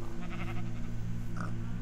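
A sheep bleats once, briefly, in the video game Minecraft, sitting over a steady low game hum and background drone.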